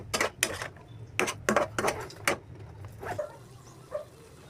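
A liver mixture being stirred in a cooking pan, with a run of sharp metallic scrapes and clanks from a utensil against the pan in uneven bursts, close and fairly loud, then tapering off.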